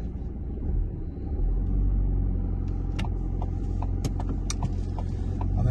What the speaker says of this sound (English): So I'm just going to start the car, as demonstrated earlier.